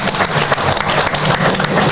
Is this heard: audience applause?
yes